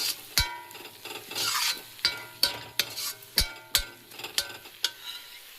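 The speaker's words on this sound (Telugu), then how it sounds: "ఇప్పుడు ఇవి బాగా కలుపుకొని ఇంకొంచెం సేపు ఒక 2 మినిట్స్ ఫ్రై చేసుకుందాం" Cluster beans with salt stirred in a frying pan, a spatula scraping and clacking in sharp irregular strokes over a faint steady sizzle, close and alone.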